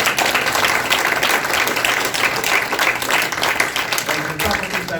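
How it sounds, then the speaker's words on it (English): A Republican forum audience gives a steady round of applause for two candidates, dense and continuous clapping that stays loud and even for the whole stretch, with crowd noise mixed in. "Let's give both another round of applause."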